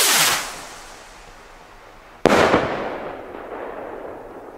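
A Gao Silver Blinks New Year's Eve firework rocket lets out a fading whoosh, then a sharp, loud bang about halfway through, followed by a long echoing decay.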